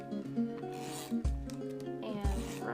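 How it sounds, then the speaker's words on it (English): A tape runner rasps as it lays adhesive tape along a handmade paper card, in short rubbing strokes with a couple of soft thumps, close and fairly quiet with no talking. "use my tape runner"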